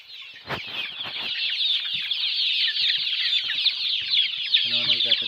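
Young farm chickens clucking and chirping steadily while they feed in a poultry house, a dense continuous chatter of many birds close by, with a few brief knocks and a short voice near the end.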